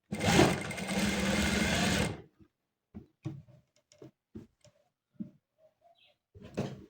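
A sewing machine top stitches the neckline of a V-neck bubu, running steadily for about two seconds, then stopping; soft handling clicks and taps follow in the quiet.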